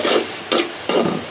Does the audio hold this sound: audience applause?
no